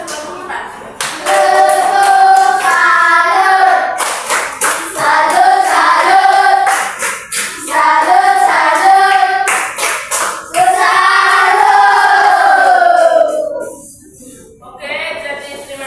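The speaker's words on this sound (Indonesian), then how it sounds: "tepuk tangan sebelum pembukaan" Schoolchildren in a fourth-grade primary classroom clap their hands in a quick rhythmic pattern, close and loud, while their voices chant along in unison throughout.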